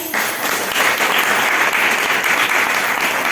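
Thousands of people clap together inside a packed temple, a dense, steady wash of loud applause filling the space for the whole stretch with no voices on top.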